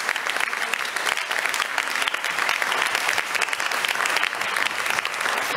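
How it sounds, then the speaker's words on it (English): An audience at a cultural symposium in Weimar applauds its speakers, a loud, sustained burst of many hands clapping at close range that holds steady throughout with no talk over it. "Please give them a round of applause."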